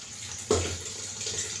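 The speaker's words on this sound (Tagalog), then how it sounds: "Hugasan ko na ito pero lagyan ko lang ng tubig." Tap water streams into a basin for washing, a steady hiss with a sharp splash as the flow hits, close and alone with no voices.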